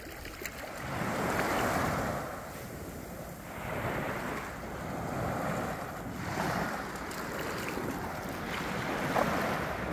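Ocean waves wash and surge around a small boat, broad swelling noise rising and falling in several slow surges, with wind buffeting the microphone throughout and no voices.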